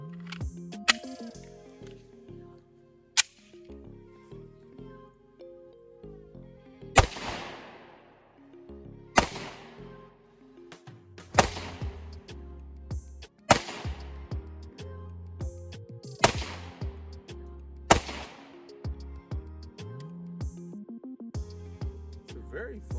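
Ruger 57 pistol fired at a gun range, a series of sharp, loud, separate shots spaced a second or two apart, with ringing decay and a low hum between them.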